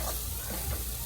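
Guyanese bunjal duck curry fries in a pot while being turned over, giving a steady, close, continuous sizzle that stays even throughout this short stretch.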